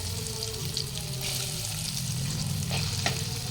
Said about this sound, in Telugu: హీట్ అయిన ఆయిల్లో పన్నీర్ ముక్కలని వేసుకొని